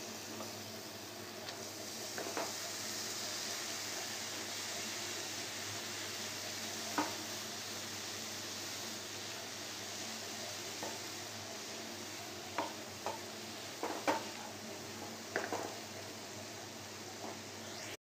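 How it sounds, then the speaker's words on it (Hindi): Grated bottle gourd fries in a pan over medium heat, giving a soft steady sizzle with occasional stirring scrapes and light taps, close and fairly quiet. "लौकी को मीडियम आंच में फ्राई करेंगे।"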